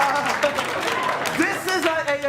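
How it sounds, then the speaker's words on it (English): Comedy-show audience clapping and cheering at a joke, a steady wash of applause mixed with whoops and voices, close and fairly loud throughout. "The fans are clapping and cheering."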